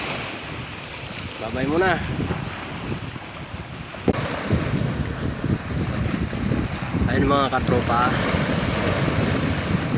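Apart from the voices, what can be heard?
growing sea waves at Dammam Corniche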